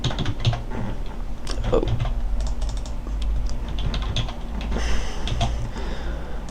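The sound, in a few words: typing on a computer keyboard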